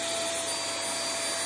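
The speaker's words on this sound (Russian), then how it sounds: "Мы проверяем реакцию кота на пылесос." A vacuum cleaner runs steadily and loudly, a constant broadband whoosh with a faint whine on top, with no breaks or talk, as it is tested on a cat.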